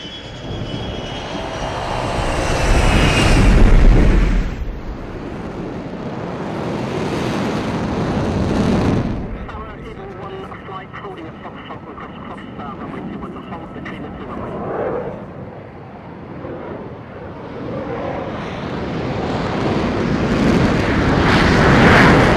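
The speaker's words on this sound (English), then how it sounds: "Bands on Nellis Tower, you're cleared for takeoff" Military jets taking off from Nellis air base, loud engine roars that swell and pass one after another, then a sustained rumbling thrust fading into the distance, with radio voices heard intermittently.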